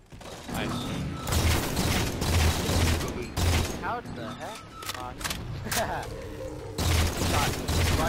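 Rapid bursts of gunfire from Halo 4 multiplayer team slayer, repeated shots and thuds in quick succession with mechanical clicks, mixed under a player's talking voice.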